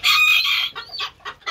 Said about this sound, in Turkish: Çok saldırgan değil ama çok nazik bir gurk.